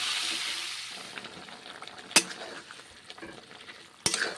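Mushroom and potol curry cooks in a pan, a soft sizzle with stirring and scraping sounds, two sharp utensil clacks standing out against the quiet simmer, with no voices.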